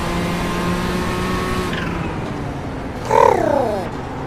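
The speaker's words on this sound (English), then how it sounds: "absolutely have a love relationship with the Nissan GTP. It sounds incredible." On-board engine of a Nissan GTP prototype race car in the iRacing sim, a steady droning note that drops off, then a brief sharp rev burst with falling pitch near the end, alone.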